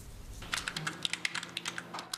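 Rapid clicking of keys on a computer keyboard, close and crisp, in quick irregular bursts with no talking.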